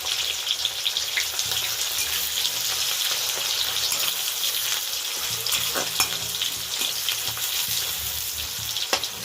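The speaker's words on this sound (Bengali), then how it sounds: "পেঁয়াজটা একটু ভাজা হবে।" Chopped onions fry in a pan with a steady crackling sizzle, plus occasional clicks of stirring, fairly close and continuous.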